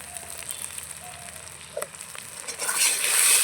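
Turmeric powder, chili powder and salt sautéing in a hot pan give a soft, steady sizzle that swells into a louder, brighter hiss toward the end, with no voices.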